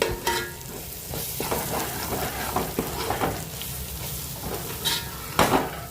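Turmeric and Agri masala sautéing in a pan for egg biryani, a steady sizzle broken by repeated scraping stirs and light clinks of a spoon against metal, close and fairly loud with no talking.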